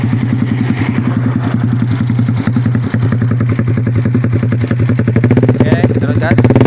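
A motocross motorcycle with a 57 block, checked over after a crash, runs loud and close with a rapid, rough engine pulse. It holds a fairly steady idle-like throb that builds slightly toward the end, with a voice over it.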